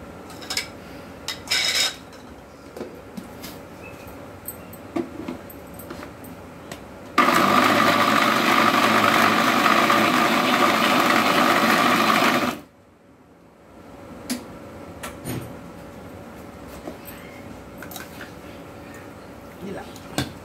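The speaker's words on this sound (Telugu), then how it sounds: "మిగిలిన దాన్ని అంతా కూడా ఇలాగా మిక్సీ పడుతున్నాం." A mixer grinder blends gongura leaves for pickle in one loud, steady whirring burst of about five seconds. Light kitchen clatter and quiet voices sit before and after it.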